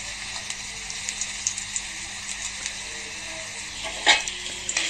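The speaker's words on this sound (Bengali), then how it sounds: "তেলটা গরম হয়ে গেলে আমি তেলের মধ্যে পেঁয়াজ ছেড়ে দিব।" Onions frying in hot oil, a steady bright sizzle with small ticking spatters and one louder stir-like clatter near the end.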